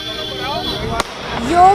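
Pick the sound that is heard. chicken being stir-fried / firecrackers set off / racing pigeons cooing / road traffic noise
firecrackers set off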